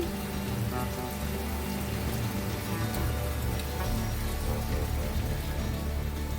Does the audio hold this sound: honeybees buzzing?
no